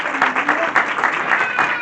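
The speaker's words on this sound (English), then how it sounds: "let's give a big round of applause" Audience applause after a film festival screening and Q&A, a crowd clapping steadily at moderate loudness with a voice speaking over the top.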